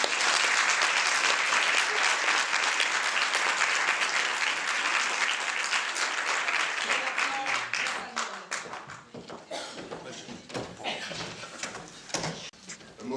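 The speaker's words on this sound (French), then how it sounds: "je tenais à ce qu'on l'applaudisse pour ça." A theatre audience applauding at a live show, dense sustained clapping that holds steady for several seconds, then thins into scattered claps as murmuring voices and small movement noises emerge.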